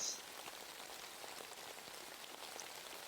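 Soft, steady rain falls in a continuous even hiss of drops on a surface, an ambient loop on a game development stream with no voices present.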